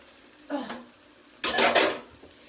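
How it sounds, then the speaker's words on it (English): Wooden spoon stirring and scraping tomato paste in a pan while it sautés, two short clattering bursts, the second louder and longer, close up. "And we're going to saute our tomato paste."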